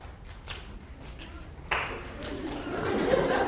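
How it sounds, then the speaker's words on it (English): Audience in a lecture hall breaking into applause, a broadband clatter of many hands that starts abruptly after quiet murmuring and swells louder toward the end. "please clap"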